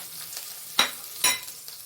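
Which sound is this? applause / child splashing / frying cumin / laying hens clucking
frying cumin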